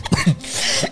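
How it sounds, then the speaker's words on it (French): A person sick with illness gives a short, close, loud cough in two quick throaty bursts, followed by a brief breath, under a second long. "mon corps doit expulser, il faut que je tousse"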